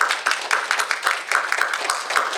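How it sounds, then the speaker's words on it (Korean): Steady applause from a church congregation during a Sunday worship service in Las Vegas, many hands clapping together in a continuous, moderately loud patter with no voices over it. "격려의 의미로"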